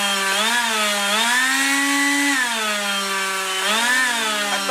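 A cordless battery leaf blower runs at full speed, giving a loud, steady whine whose pitch sags and rises a few times, with no voices.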